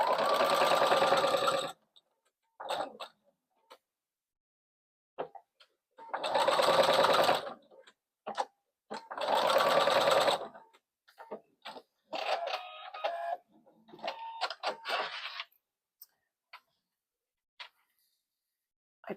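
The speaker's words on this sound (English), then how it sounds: "And we're going to sew this on." A domestic sewing machine stitches fabric for a crossbody bag, running in several close, steady whirring bursts of a couple of seconds each, separated by pauses, soft handling clicks and a few brief spoken remarks.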